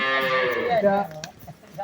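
A single long, loud moo from a nearby cow in Laksam, Cumilla, drawn out for about a second before fading into quieter background sounds.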